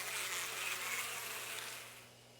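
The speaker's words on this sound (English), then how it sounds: "It seems to be liquid attracts bees." Insect buzzing of bees swarming over a thick, smelly liquid in the horror game Death Mark, a steady dense drone with a faint low hum beneath, fading slightly at the end.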